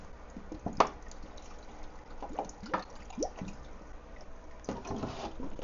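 Small pours of water being added to a bag holding albino fish for acclimation to a patio aquarium, heard as soft, faint drips and trickles with quiet splashes spread across the moment, followed by a louder burst of sloshing near the end.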